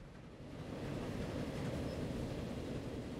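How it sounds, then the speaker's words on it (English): A passenger train arrives in the Transport Fever 2 video game as a steady low rumble of rolling wheels that slowly grows a little louder, heard alone at a moderate distance. "Where is our train? There it is."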